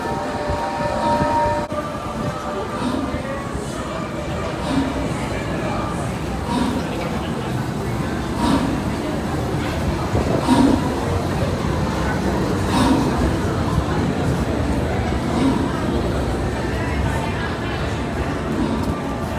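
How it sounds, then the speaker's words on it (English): The Hogwarts Express train at Universal Studios rumbling steadily into a station, with continuous rolling clatter and crowd voices chattering throughout. "I was able to capture the Hogwarts Express arriving into the station"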